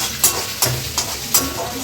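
Chopped ginger hits hot oil and fries with a loud, close sizzle, and a spatula stirs through it in four evenly spaced scraping strokes.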